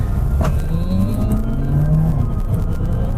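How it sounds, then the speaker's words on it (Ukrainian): A diesel Volkswagen Jetta engine revs up and down under load in sport mode, reaching nearly 5,000 rpm, loud and close, with shifting pitch and steady road rumble throughout. "розкручує до майже до 5 тисяч розкручує той мотор в режимі спорт"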